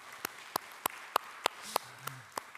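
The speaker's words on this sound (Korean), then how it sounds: "우리 하나님께 감사와 영광의 박수 올려드리겠습니다" A church congregation claps in steady unison, about eight sharp, evenly spaced claps with a faint low tone sounding underneath.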